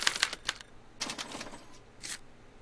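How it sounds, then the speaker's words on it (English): A special typewriter in the video game Back to the Future printing out a punch card, quick clattering strikes in short clustered bursts, close and fairly quiet. "they're relayed to this special typewriter, which prints out a punch card that represents the subject's mind map"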